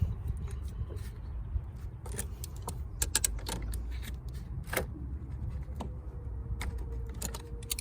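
A wrench tightens the nut on a new positive car battery terminal, giving a run of sharp metallic clicks and small ratcheting creaks scattered over a steady low background hum.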